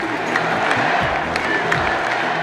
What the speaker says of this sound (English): I expect that crowd to be extremely loud, a little bit rowdy, and ready to roll.